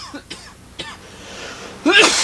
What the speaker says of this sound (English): Complete with a nasty cough that I've picked up and that will not go away.